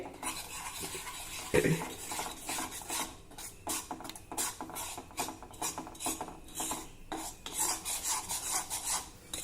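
Wheat flour being stirred and roasted in ghee in a pan, heard as a steady run of scraping, rasping strokes of a spoon against the pan with irregular rhythm, close and fairly quiet.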